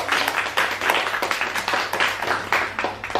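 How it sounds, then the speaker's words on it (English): A studio audience at a talk show claps steadily, with dense rhythmic clapping that stays loud and even throughout without cheering. "So please, people, a round of applause for Federico Navarrete."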